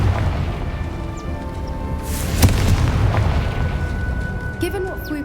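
A Confringo fire spell in Hogwarts Legacy lands as one sharp boom midway, rising from a constant low, rumbling game soundscape that continues before and after the blast.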